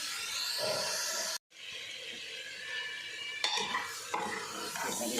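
Chopped onions and bottle gourd sizzle as they are fried and stirred in a pan, a close, steady hiss with a brief silent break and a few sharp clinks of a spoon against metal.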